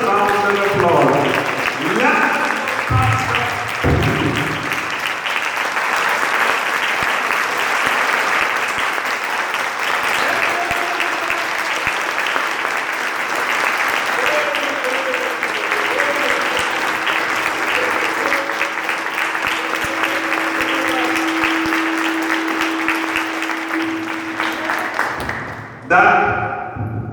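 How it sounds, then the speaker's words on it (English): Sustained audience applause at a literary fest, a dense, loud wash of clapping lasting over twenty seconds before cutting off abruptly near the end. "join our hands and give them a thunderous round of applause"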